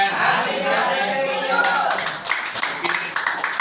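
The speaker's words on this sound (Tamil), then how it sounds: "கைத்தட்டி ஹாப்பி பர்த்டே டு யூ சொல்லுங்க" A group at a birthday gathering in a home for people with disabilities claps hands together, a brisk, close, continuous patter of many hands with faint voices mixed in.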